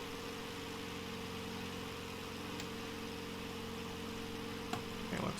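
Simulated engine of an Icon A5 light amphibious aircraft idling in a flight simulator, a steady low droning hum held evenly throughout, with a couple of faint clicks near the end.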